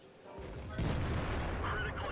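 A tank cannon fires a high-explosive shell in World of Tanks, from a T-34 aimed at an RHM: one sharp, loud boom with a rolling tail, set against a quieter battle backdrop.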